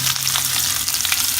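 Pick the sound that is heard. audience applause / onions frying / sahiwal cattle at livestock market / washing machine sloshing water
onions frying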